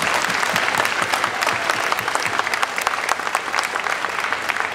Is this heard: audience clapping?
yes